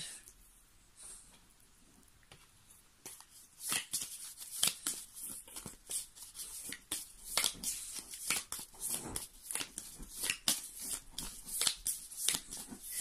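A deck of cards is shuffled for a card reading, with a quiet stretch followed by a long run of rapid, crisp riffling and slapping bursts close by.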